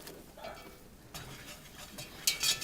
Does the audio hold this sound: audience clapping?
no